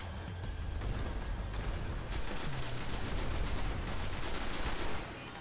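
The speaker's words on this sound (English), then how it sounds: "Everybody's shooting the Archon Priest with icebreakers" Sustained gunfire from several Icebreaker rifles in Destiny, aimed at the Archon Priest, with dense overlapping shots over a continuous game rumble that keeps steady until it drops near the end.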